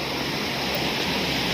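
Tumalog Falls waterfall gives a dense, steady roar of falling water, loud and unbroken, with no other sounds standing out.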